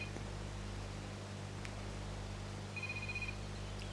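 An in-game phone rings in Farming Simulator 17, a short electronic ringtone heard briefly over a steady low background hum, fairly faint.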